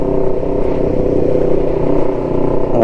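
A Kawasaki ER5 motorcycle with a Black Widow aftermarket exhaust idles steadily and close by, its deep, throaty exhaust note rumbling evenly and loudly throughout, with no voices present.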